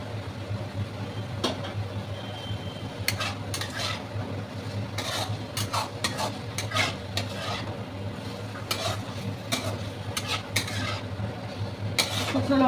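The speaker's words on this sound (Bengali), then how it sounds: "চলো এবার আলুগুলো দিয়ে দিই।" Potatoes tipped into a pan of ginger, garlic and cumin paste and stirred, with repeated scraping and clinking strokes of a spoon against the pan over a low steady hum, close by and fairly even throughout.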